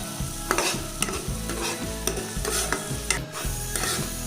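Coriander and cumin powder are stirred into a sizzling rohu fish curry. A spoon scrapes and knocks against the pan in repeated strokes over a constant frying hiss, close and clear, with nobody talking.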